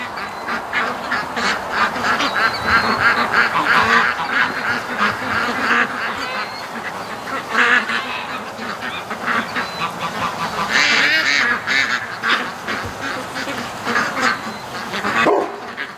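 Flock of charity-raised ducks quacking and honking outdoors at dawn, a steady, busy chorus of overlapping calls close by, with other birds mixed in and a dog-like bark or two.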